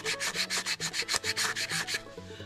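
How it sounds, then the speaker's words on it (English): Rhythmic back-and-forth scratchy rubbing of sandpaper on a wooden turkey call, about a dozen quick, even strokes close up before the sound trails off. "when you sand it down, you want to sand it that way"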